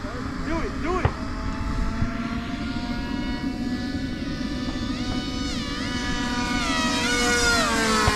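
An RC model airplane, a Delta 40 or Piranha, flies nearby with a loud, steady propeller-engine whine that shifts pitch as it passes, with people talking briefly at the start.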